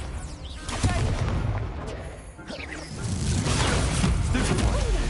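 Fire spells cast in a wizard video game burst out as booming, crackling blasts with whooshing flares, several in quick succession over a busy battle soundscape, while a voice shouts spell names over them.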